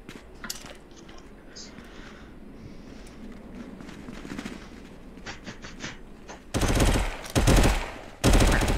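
Gunfire in the virtual reality survival game Contractors: faint scattered shots and footsteps early, then loud rapid bursts of automatic fire near the end, close and dominant.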